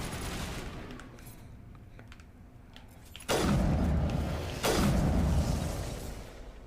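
Heavy gunfire in Mass Effect, with two loud, sustained bursts of shooting and booming breaking over a quieter battle background, near and dense, with no talk.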